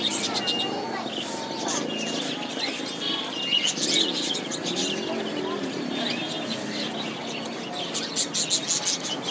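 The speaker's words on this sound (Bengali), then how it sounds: "আমরা এখানে খাঁচার মধ্যে কিন্তু বিভিন্ন জাতের কবুতর দেখতে পাচ্ছি" A busy mix of chirps, tweets and low cooing from many caged pigeons of various breeds and other birds at a bird market, with people talking underneath.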